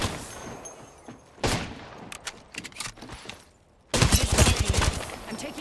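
Video game gunfire from a battle royale shooter crackles in bursts, a sharp volley early, scattered rapid shots in the middle, then a loud sustained barrage near the end, with no talking.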